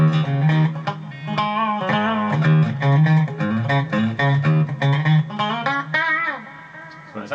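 Epiphone Nighthawk Custom Reissue mahogany-body electric guitar on a coil-tapped bridge humbucker plays a brisk run of picked notes and short phrases, bright and up close, with no voices.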